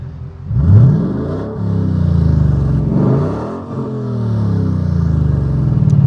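Custom Ford car exhaust at a car show, revved repeatedly in several loud, close bursts that rise and fall, with the engine idling between blips.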